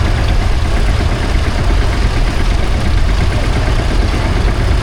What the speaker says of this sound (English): 2-stroke engine on the front